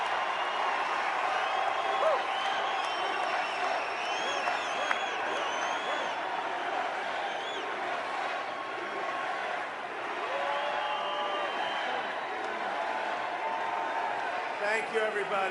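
A large crowd at a Trump rally in Pensacola, Florida roars and cheers steadily throughout, with scattered clapping and whistles in a dense, continuous wash of noise.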